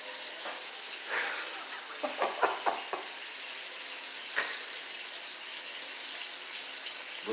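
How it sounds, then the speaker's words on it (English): Water running from a tap indoors makes a faint, steady hiss that continues throughout, with a few soft clicks and knocks near the start. "let me turn on the water"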